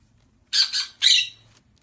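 Pet birds give two sharp, bright squawks in quick succession, close and fairly loud against a quiet room.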